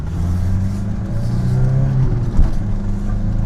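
An Audi 80 engine runs steadily with a low, droning hum and a slightly rough tone, rising briefly in a rev about two-thirds through, heard close and loud with no talking.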